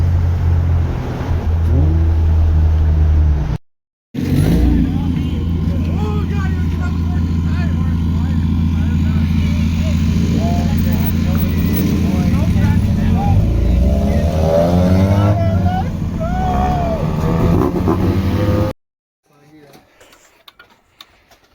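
A Mazda RX-7 FD3S rotary drift car with a Power FC rev limiter drones loudly and steadily, with people talking over the engine. The sound drops out briefly early on and again near the end.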